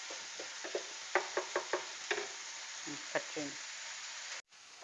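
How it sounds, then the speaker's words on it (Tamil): Pressure-cooked lentils for dal are mashed in a pot, giving soft, wet squishing strokes in an uneven rhythm over a steady faint hiss. "ஏற்கனவே நான் வேக வச்ச பருப்பு, இது நல்லா மசிச்சுக்கோங்க"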